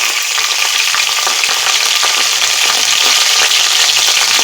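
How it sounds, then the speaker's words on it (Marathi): Cumin seeds, mustard seeds and four chopped green chillies hit hot oil, giving a loud, dense, continuous sizzle and crackle with close spattering throughout. "त्यानंतर अर्धा चमचा जिरं चार मिरच्या चिरलेल्या घालायच्या आहेत"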